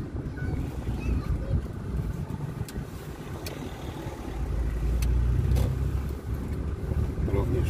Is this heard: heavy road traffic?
yes